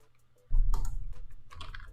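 Typing on a computer keyboard, a quick run of close, soft key clicks with irregular rhythm, faint overall and without talk.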